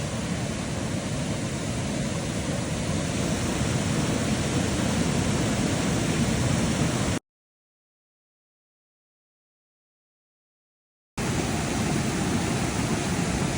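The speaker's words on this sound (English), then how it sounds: "Oh wow, that is a waterfall." A waterfall on a mountain hiking trail from Kuwohi to Middle Prong, a loud, steady broadband rush of falling water heard close up, continuous apart from a few seconds of total silence partway through.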